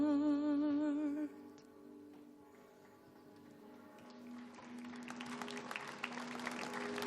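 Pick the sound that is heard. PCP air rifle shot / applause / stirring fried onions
applause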